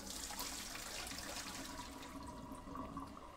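Water sloshes and drains in a sink while Gryphon C-40 bandsaw parts are rinsed, a continuous close rushing and gurgling wash that eases off slightly toward the end.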